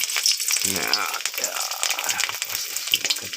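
Sticky rice cakes fry in a pan with a close, crackling sizzle and light rattles, while a voice speaks briefly.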